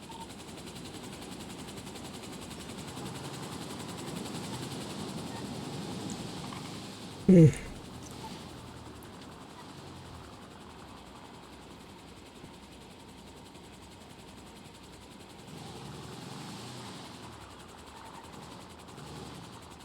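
Helicopter in GTA hovering and being steadied inside a hangar, a steady rotor and engine drone under the whole stretch, with one sharp loud knock partway through.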